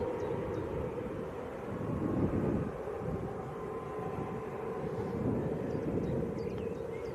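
Continuous low rumble of a passenger jet carrying the Leeds United team on final approach to Leeds Bradford Airport, heard from outdoors with wind buffeting the microphone, steady with slight swells in loudness.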